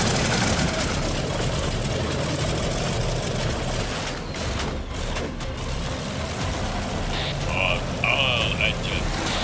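A bomber aircraft's third engine in a flight video game runs at a steady, loud idle, a dense low droning rumble that holds throughout, with radio-style speech over it.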